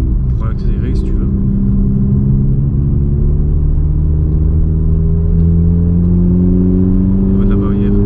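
A Stage 3 VW Polo GTI runs steadily with a deep engine drone and rising pitch as it accelerates, heard from inside the car, with people talking over it.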